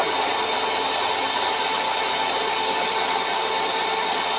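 A loud woodworking machine whines steadily while cutting wood, a constant dense roar with no pauses.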